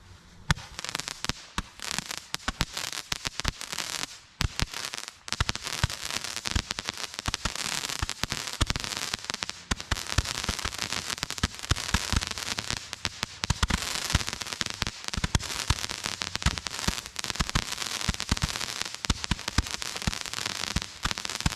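A crackling firework shot from a spare firework tube, a dense, continuous crackle of many sharp pops and snaps going on for twenty seconds, with a brief lull around the fifth second before it resumes just as thick.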